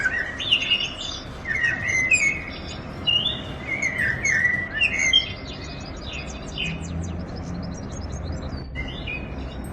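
Birdsong played through a Nature Breeze table fan: bright chirps and tweets overlap in busy bursts for about five seconds, then thin to softer, scattered calls over a steady low background hiss.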